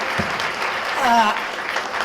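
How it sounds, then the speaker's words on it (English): An audience at a film Q&A applauds: a brief, even burst of many hands clapping, with a short voice breaking through midway. "a round of applause and congratulations is certainly due"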